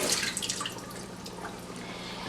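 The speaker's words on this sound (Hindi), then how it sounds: "जो पानी में भिगो के रखे थे उसका पानी मैं फेंक दूंगी" Soaking water being poured off raw potatoes, a quiet trickle and drip of water in a kitchen, soft and steady with a few brighter splashes, no talking.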